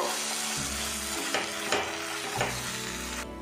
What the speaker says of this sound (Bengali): পেস্ট আমি একটু উল্টে পাল্টে নাড়াচাড়া করে নেব।